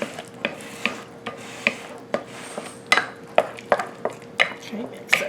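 Spoon stirring cinnamon into banana bread batter in a bowl, giving a run of sharp scraping knocks against the bowl at an irregular, fairly quick rhythm, close and moderately loud.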